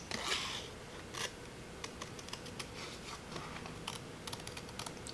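Scissors snip paper while cutting closely around a printed flower, giving a quiet run of short, crisp clicks and scrapes spread unevenly across a few seconds, with no talking.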